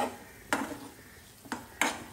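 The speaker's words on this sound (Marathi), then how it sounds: "चांगलं मिक्स करून घ्यायचं" Prawn curry with fish masala is stirred in a pan, producing three sharp, distinct metallic clinks of the utensil against the pan, spaced apart over quiet background.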